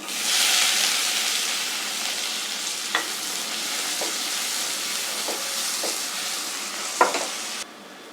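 Finely chopped onions sautéing in a pan for prawn gravy, giving a steady close sizzle with occasional stirring clicks of a spoon against the pan.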